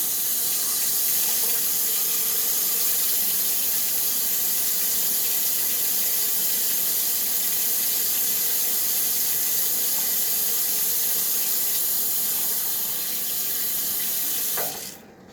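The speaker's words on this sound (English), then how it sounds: "I need to wash my hands." A kitchen sink tap runs steadily for handwashing, a bright continuous hissing stream close by that holds evenly before the flow is shut off at the end.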